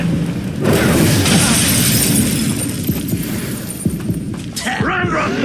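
In Hogwarts Legacy, an Incendio fire spell erupts in a loud, roaring blast with crackling, shattering debris, layered with heavy combat effects.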